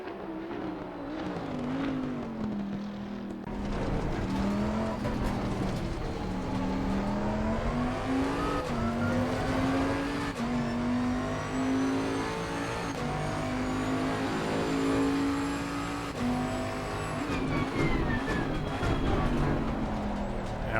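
A Bentley GT3 race car laps Spa in the Assetto Corsa Competizione racing game, its engine note loud and continuous, rising and falling through gear shifts with steady revving from start to finish.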